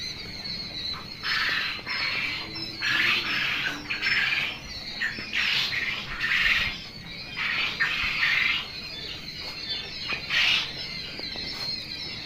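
Many birds at a crowded bird farm squawk and screech in overlapping bursts, a loud, busy chorus that rises and falls without pause from start to finish.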